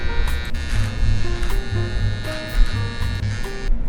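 A loud transformer welder gives off a harsh, steady electrical buzz with a layered, pulsing hum that swells and shifts in pitch, close and continuous, with no talking.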